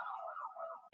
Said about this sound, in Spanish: se cortó un poco, creo, por la ambulancia que vino